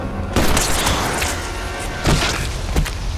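Pump-action shotgun blasts from the Sharknado film ring out as three loud, sharp bursts spaced unevenly over a continuous roaring, noisy background.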